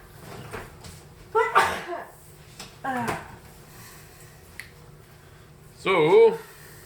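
A person sneezes at a home dinner table. A single sharp burst comes early and is followed by short voiced sounds and a later vocal outburst, with quiet room noise in between.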